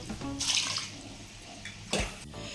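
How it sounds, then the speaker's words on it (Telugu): Water poured from a glass onto soaked biryani rice in a cooking pot gives a splashing gush, then a second brief pour, close and moderately loud. "రెండు గ్లాసులు వాటర్ పోసుకోవాలి"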